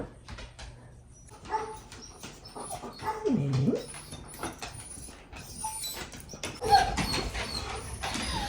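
Three excited dogs, Nova, Willow and June Bug, whimper and yip in short, scattered bursts close by, with scuffling and clatter and faint background noise between them.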